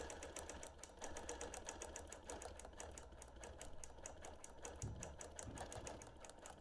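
A sewing machine runs steadily at a slow, even pace while free-motion quilting at ten stitches per inch, its rapid rhythmic needle clatter continuous and fairly close, faint overall.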